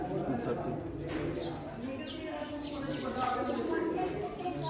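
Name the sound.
pigeons cooing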